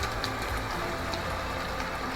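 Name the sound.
rain sound played from a sleep-sound Bluetooth speaker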